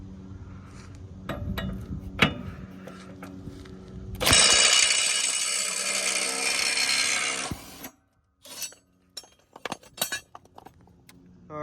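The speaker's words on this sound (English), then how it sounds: "I'm going to take these mower blades off. First I'm going to try it with the Milwaukee" A Milwaukee impact driver removes lawn mower blades with a few sharp metallic clinks, then a loud sustained burst of rapid hammering about three seconds long, followed by scattered clanks and short taps of the tool and blades.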